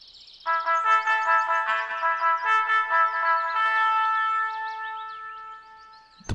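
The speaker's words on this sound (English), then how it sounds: "the lunch bell sounded" Lunch bell in a visual novel video game, a sustained ringing electronic chime from a loudspeaker with a warbling, wavering melody, loud and clear for several seconds before fading, then a short click.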